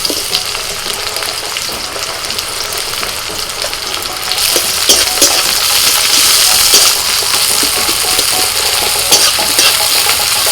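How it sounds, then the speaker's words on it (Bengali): Chopped onion hitting hot mustard oil in a wok already holding minced garlic and green chilli, a steady close sizzle and frying hiss that grows louder and brighter partway through, with occasional stirring clinks. "এবার দিয়ে দিচ্ছি পেঁয়াজ কুচি"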